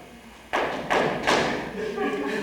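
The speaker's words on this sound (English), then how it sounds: "What's he that knocks as he would beat down the gate?" Three loud, hollow thuds pound on a gate in a stage play of The Taming of the Shrew, evenly spaced and close, followed by a quieter murmur of sound.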